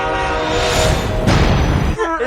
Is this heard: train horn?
yes